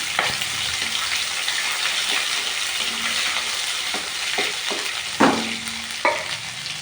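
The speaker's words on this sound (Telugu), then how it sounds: "బాగా చిప్పట్లాడుతుంది అల్లం వెల్లుల్లి పేస్ట్ వేద్దాం ఒక స్పూను కొంచెం పచ్చివాసన పోయేదాకా వేయించాలి" Ginger garlic paste frying in hot oil for a fish curry, a continuous close sizzle with a few sharp spattering pops and occasional spoon stirring, no voices.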